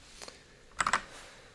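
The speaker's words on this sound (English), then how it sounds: "I get to hear two keyboards now and I love it." Computer keyboard typing, a couple of soft early taps and then a quick burst of three or four crisp keystrokes, fairly close and quiet.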